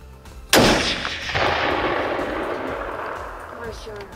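A single sharp hunting rifle shot cracks loudly nearby, followed by a long rolling echo that fades over several seconds in the open outdoors; no talk over the blast.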